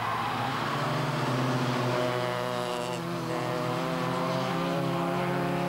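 Several race cars, including Fiat Cinquecentos, roar past at high revs during the 1997 Nürburgring 24 Hours, a dense, loud mechanical drone passing close by.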